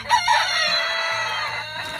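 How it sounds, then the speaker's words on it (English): Roosters crow one after another, a long strained cock-a-doodle-doo ringing out close by with no talking, filling the whole stretch. "Here are these 2 backup roosters for breeding."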